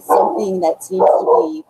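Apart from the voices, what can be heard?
dogs barking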